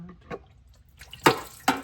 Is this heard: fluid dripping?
yes